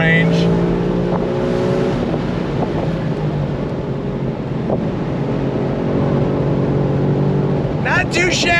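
A 2025 Ford Mustang GT 60th Anniversary Edition V8 revs steadily through its range with continuous loud engine drone and harmonic whine, wind noise over the top, and a person speaking briefly near the end.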